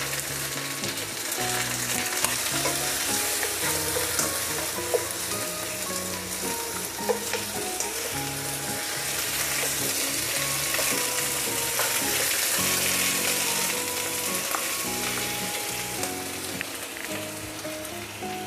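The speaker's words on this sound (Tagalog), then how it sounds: "Yung ating sinered na pata," Seared pork hock sizzling loudly in a pot, a dense continuous crackle and hiss with faint stirring clinks, close and steady throughout.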